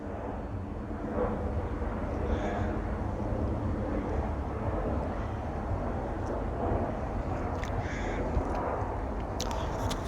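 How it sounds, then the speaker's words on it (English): A Ryanair passenger plane flies overhead coming in to land, heard as a broad, distant engine rumble that holds steady throughout, with a few faint crow caws over it. "I can see a Ryanair flight coming in."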